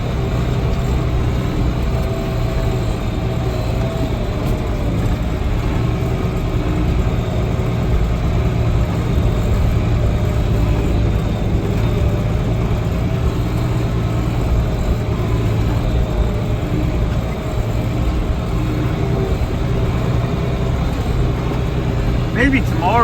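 A tractor engine idles steadily throughout, a continuous low rumble close by with no breaks, recorded on a farm near the cattle.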